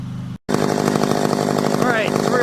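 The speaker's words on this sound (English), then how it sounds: "You can hear I got the saw definitely idled up a little more." A McCulloch chainsaw runs outdoors at a raised idle after a brief cutout, a loud, close, steady buzzing engine drone with a slight rise in pitch near the end.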